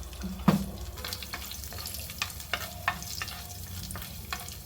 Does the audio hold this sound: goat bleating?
no